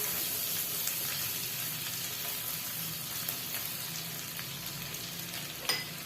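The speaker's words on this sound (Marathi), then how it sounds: "हिरवी मिरचीचे बारीक केलेले तुकडे, मिक्स करून परतून घेऊया।" Chopped green chillies with ginger sizzle and fry steadily in a hot pan for sweet corn soup, a continuous moderate crackle with occasional stirring scrapes and no voices.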